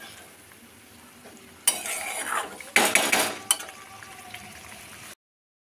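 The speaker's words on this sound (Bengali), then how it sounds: "চলো একটু সেদ্ধ করার জন্য ঢাকা দেবো।" A lid goes onto a cooking pot of chicken gravy with a little water added. A soft background hiss is broken by a few clattering metal knocks, and then the sound cuts to silence.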